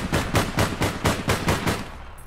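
Rapid automatic gunfire from the video game APB rattles in a fast, even burst of about nine shots, loud and close, with no talk over it.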